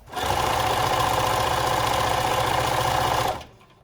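A sewing machine stitching fabric for a scrunchie runs in one steady, close, buzzing whir for about three seconds, then stops abruptly.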